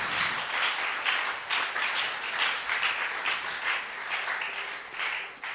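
A church congregation applauds together in praise, a dense, steady wash of many hands clapping close and loud for several seconds without talk.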